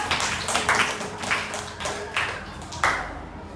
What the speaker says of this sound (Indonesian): Tepuk tangan untuk kelompok santun